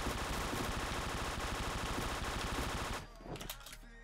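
A 45-round non-recoiling gun in a video game fires a steady, rapid automatic stream of shots for about three seconds, then stops, leaving quieter game noise and faint clatter.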